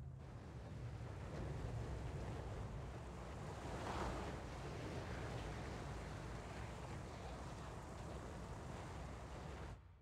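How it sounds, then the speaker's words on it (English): Running water flows in the Resident Evil remake video game, a steady broad rushing wash that holds evenly for about ten seconds before cutting off, with no talking. "The water is running down the opposite side."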